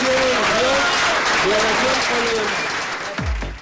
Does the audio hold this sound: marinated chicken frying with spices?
no